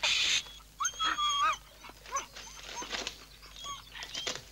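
Several dogs whimper and whine close by, with high rising cries, yips and short squeals overlapping in uneven bursts over a quiet background.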